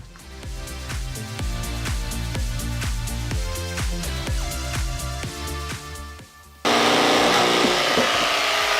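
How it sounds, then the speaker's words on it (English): Loud, close saw cutting a sink opening in a bathroom countertop, a rapid even stroking rasp that shifts to a steadier, harsher whine for the last couple of seconds. "let's do some cutting, make some sawdust"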